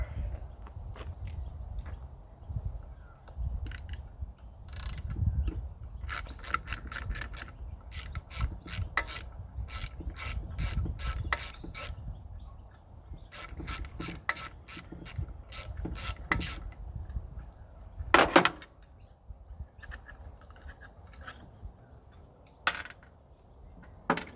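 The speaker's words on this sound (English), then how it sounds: "Ratchet." A 1/4-inch socket ratchet clicks in quick bursts of pawl ticks, with pauses between them, while removing the heat shield from an MTD riding mower during a teardown, close up over faint background rumble.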